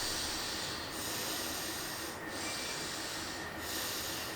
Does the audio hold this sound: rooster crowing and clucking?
no